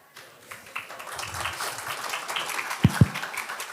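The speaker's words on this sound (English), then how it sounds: "please give your attention and applause to our next panel discussion" An audience at a state and local growth programs event starts applauding for a panel, the clapping building from quiet into a moderate wash, with two sharp close knocks near the end.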